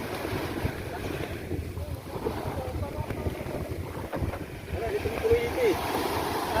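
A boat motor drones steadily under gusty wind and splashing water, with faint voices in the background.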